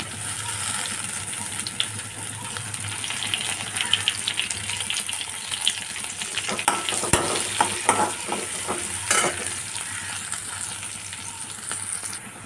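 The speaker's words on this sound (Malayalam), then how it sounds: "വേപ്പിലിട്ട് കൊടുക്കാം" Curry leaves hit hot oil in a pan for a bean and beetroot thoran and crackle in a steady sizzle, with a run of spatula scrapes and taps in the middle, and nobody speaking.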